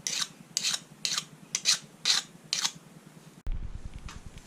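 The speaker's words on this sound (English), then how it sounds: "file over the edges like this" A metal file rasps over the cut edges of a copper piece, about eight evenly spaced strokes, close and crisp, then a short mechanical clatter and hum at the end, with no talk.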